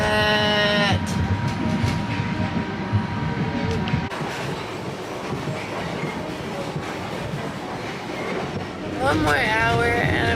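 Riding inside a passenger train in Vietnam: a continuous heavy rumble with rattling clatter fills the cabin, a faint tonal whine fades early on, and a squealing, wavering tone rises near the end.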